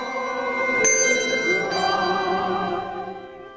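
A handbell choir rings in harmony, with sustained, layered tones and two brighter strikes near the start that slowly fade away.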